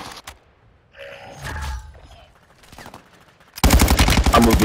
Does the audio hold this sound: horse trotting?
no